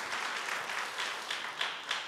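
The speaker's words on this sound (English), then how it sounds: "Let's give him a big clap" A crowd of wedding guests claps together, a dense, even patter of hands with a few sharper accents, moderately loud and close, no talking over it.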